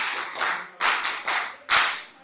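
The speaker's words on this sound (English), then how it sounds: "Let's put our hands together once again and we clap for the session chair who has been able to steer us very well." An audience at a national retreat claps for the session chair, three short bursts of close, crisp hand clapping separated by brief pauses, with no talking.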